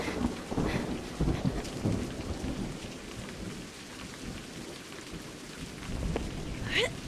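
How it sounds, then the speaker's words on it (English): Rain patters steadily in the video game A Highland Song while thunder rumbles low and heavy at the start and again near the end, with soft game ambience between. "It needs to stop raining."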